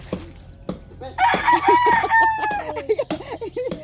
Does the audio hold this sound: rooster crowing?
yes